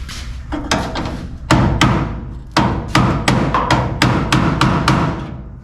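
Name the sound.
tapping a 1962 Impala tail panel into place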